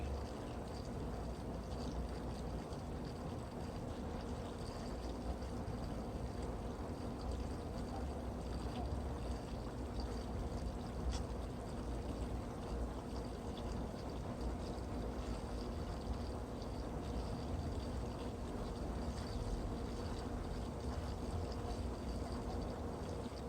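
Steady rushing water pouring into an RV gray tank, a continuous even flow with a low hum underneath and no pauses.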